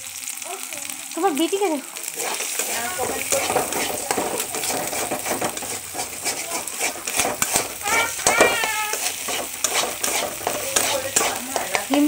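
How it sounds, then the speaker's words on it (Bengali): An egg frying in a pan with a little salt, a steady close sizzle running throughout with occasional scraping and stirring clatter, while a voice talks over it. "আমরা এখন ডিমটা ভেজে নিচ্ছি"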